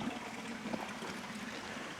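Water trickles steadily down a decorative water feature on a street in Japan, a soft continuous faint splashing with no voices.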